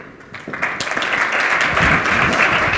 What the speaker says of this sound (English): get a hearty round of applause.